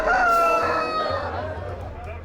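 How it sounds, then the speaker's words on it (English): A rooster at a cockfight in China lets out a single loud crow, strained and warbling, fading over about two seconds against low crowd murmur. "there's something about watching two roosters rip each other to shreds"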